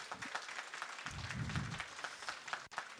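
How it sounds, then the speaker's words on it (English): An awards ceremony audience gives a short burst of scattered clapping at moderate distance, thin and fairly quiet, with no voices over it. "Can we have a big clap for that, please?"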